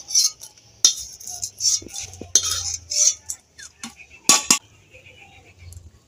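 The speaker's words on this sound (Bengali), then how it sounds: "কারি পাতাগুলো ভাজা হয়ে গেছে, এবার এই কারি পাতাগুলো আমি তুলে নেব।" Fried curry leaves are scooped out of a wok with a metal utensil, producing a series of close, bright scrapes and clinks in irregular bursts separated by short quiet gaps.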